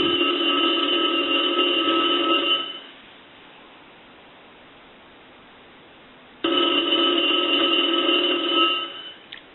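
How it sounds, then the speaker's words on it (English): A converted A&E three-slot payphone rings with a loud mechanical bell, one long ring burst, a few seconds of near silence, then a second ring burst. "I want to go ahead and ring the telephone"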